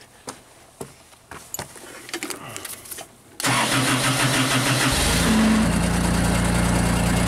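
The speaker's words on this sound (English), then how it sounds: "At least the starter works, right?" A JLG scissor lift engine with a start-stall fault is cranked by its starter and fires up, several faint clicks and knocks giving way to a sudden loud, steady running roar close by.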